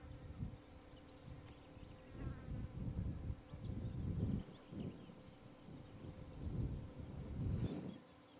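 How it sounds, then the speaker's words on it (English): Gusty outdoor wind picking up in open countryside, buffeting the microphone in rising and falling low rumbling surges across the whole stretch. "The wind is starting to pick up quite a bit now."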